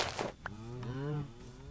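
A single drawn-out cow moo from a video game sounds clearly and fairly loud, following a brief burst of noise.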